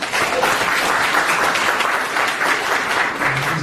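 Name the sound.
audience applause welcoming guest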